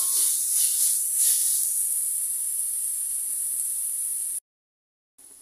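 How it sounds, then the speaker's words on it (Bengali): Quarter cup of onion paste and spices fry in hot oil for a tengra fish curry with potato and eggplant, giving a loud, steady, close sizzling hiss that cuts out abruptly for a moment before returning. "পেঁয়াজ বাটা দিব কোয়ার্টার কাপ। 1 মিনিট ভেজে নিব। মশলাগুলো 1 মিনিট ভেজে নিয়েছি।"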